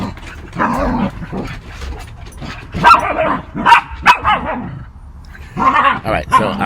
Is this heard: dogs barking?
yes